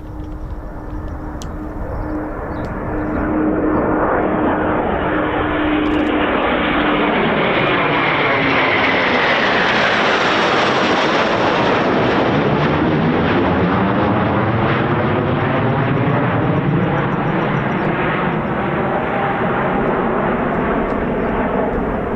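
Eurofighter Typhoon FGR4 jets fly circuits at RAF Coningsby. The engine roar swells from a distant whine into a loud, sustained pass with a falling pitch sweep, then stays at full volume for about twenty seconds.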